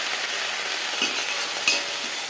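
Onions and cabbage sauté in a pan for ragi cabbage dosa, a soft continuous sizzle with light scraping stirs and a couple of small utensil clicks.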